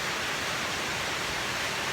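Steady, dense hiss of heavy rain, loud and continuous with no pauses and no voices.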